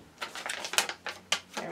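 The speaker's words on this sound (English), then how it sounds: "So I'm going to cut the corners off so that I can actually open it and lay it flat." Scissors snip through the heat-sealed foil corners of a crinkly snack bag, a handful of sharp, close cutting and crackling bursts spaced across a short quiet stretch.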